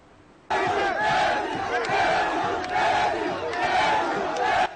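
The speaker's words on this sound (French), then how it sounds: "Issa Tiroma Bakari, ovationné par une foule de militants à la place des fêtes de Bertois." A dense crowd of political supporters cheers and chants loudly at a pre-campaign rally on a public square in Bertoua, bursting in suddenly and staying steady and close throughout.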